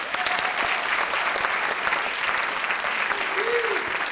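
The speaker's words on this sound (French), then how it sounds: "je demande un tonnerre d'applaudissements à Gary à la régie." Sustained applause from a theatre audience at a stage performance, a dense, even patter of many hands clapping steadily throughout, moderately loud with faint voices beneath.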